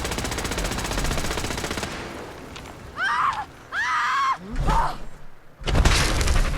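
Rapid automatic gunfire from companion Curie rattles loudly in Fallout 4, a long burst followed by creature shrieks and thuds, then another loud burst at the end.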